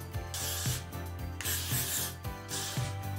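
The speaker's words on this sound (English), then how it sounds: "I am going to spray through some more hairspray." Hairspray sprayed through freshly curled hair, with several short hissing bursts in a steady rhythm and a faint mechanical click from the nozzle, heard close up with no talking.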